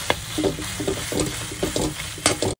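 Khoya is roasted in a hot kadai, with a spoon scraping the pan in repeated close strokes over a low cooking hiss. No one speaks.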